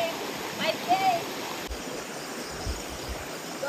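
A river crossed during a trail run in Tabuk, Kalinga gives off a steady broadband rush of flowing water, moderately loud and continuous, with a few faint low thumps and a brief chirp-like tone.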